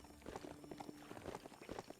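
Horse hooves clip-clopping at a steady riding gait in the video game Biomutant, a quick rhythmic patter of hoofbeats, fairly faint.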